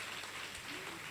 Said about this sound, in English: I think they need a big round of applause, Rajura and Rajat.